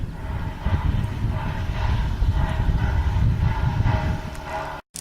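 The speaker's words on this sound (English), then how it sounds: "The train that you see pulling out on the right over there is our train that we'll be taking back to Durango right directly." A Durango & Silverton narrow gauge train pulls out nearby, a steady low rumble and rolling clatter of wheels on rails that holds at an even loudness throughout, with a brief dropout just before the end.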